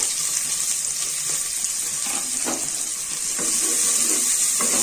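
Chopped onions sizzle and crackle steadily in hot oil, with occasional scraping of a spoon stirring the pan.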